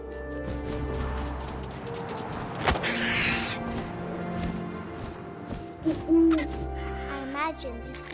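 An owl hoots in a PS4 video game, with low, soft calls set against wind and ambient game sounds, a few thuds, and a voice speaking intermittently over it.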